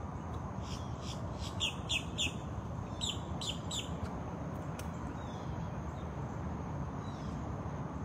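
A loud bluish-green and black bird gives a series of sharp, squawky calls in quick bursts over a steady, low background hiss during a morning walk at Big Cat Rescue, then falls quiet apart from a faint distant call.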